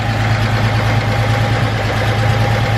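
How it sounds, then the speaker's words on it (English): A Honda Civic Type R's engine idles steadily and loudly throughout with a constant low drone and mechanical vibration; no clear revving stands out. "I'll give it a couple revs for you guys here in just a second."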